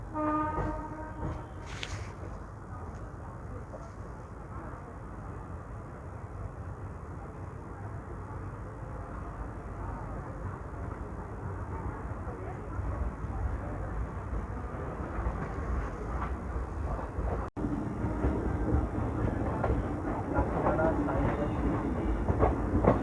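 The 12748 Vikarabad–Guntur Palnadu SF Express runs along in a steady, loud rumbling roar with a brief horn-like tone at the start, the low rolling noise growing louder toward the end, and no clear voices over it.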